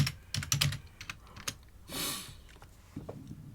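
Quick bursts of keystrokes on a computer keyboard, a cluster of clicks followed by scattered single taps and a brief rushing noise, close and quiet with no talk.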